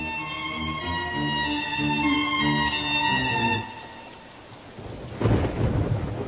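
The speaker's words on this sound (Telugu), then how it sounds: "వర్షం పడుతున్నట్టుంది" Steady rain falls alongside rolling thunder in a movie scene, with a loud burst of thunder near the end; no one speaks.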